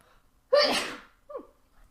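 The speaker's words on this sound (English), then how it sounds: "I need to sneeze." A single loud, close sneeze bursts out, followed by a brief voiced exhale or sniff afterward.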